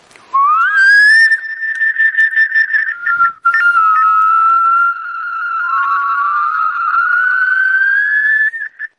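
Two cell phones feeding back into each other produce a loud whistling tone that slides upward at the start, holds with stuttering dropouts, briefly cuts out, then resumes as a long sustained whistle that creeps slowly higher.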